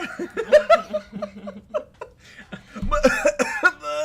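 A person coughs and chuckles in a string of short voiced bursts, close and fairly loud, with laughter-like sounds mixed in.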